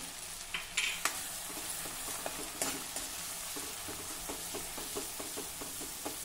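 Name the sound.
sautéing ground masala paste in oil on low flame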